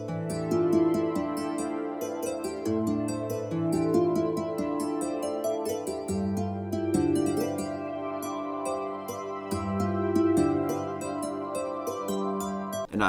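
A guitar line layered with a bright pad synth copied an octave up, playing an Asian rock style beat built in FL Studio, with a steady rhythmic pattern of plucked and sustained chords and no voice.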